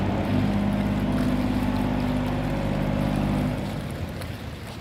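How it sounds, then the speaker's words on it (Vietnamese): A large sea-going barge passes out through an opened sluice gate, its engine a loud, steady low droning rumble with water churning, holding close and constant before easing slightly toward the end. "Anh này cũng khá lớn nha, chiếc xà lan đi biển nha các bạn."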